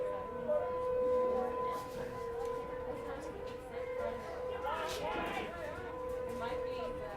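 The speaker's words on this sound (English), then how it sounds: "Sirens going off." A steady siren tone wails in the background throughout at a baseball game, with a crowd murmuring and voices talking over it.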